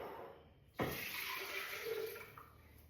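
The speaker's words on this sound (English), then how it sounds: "I'll just tip out, I'll keep that salt water because that's good" Salt water brine tipped out of a jar, a sudden onset of steady splashing, pouring liquid that runs continuously for about two seconds, fairly close and alone with no talk.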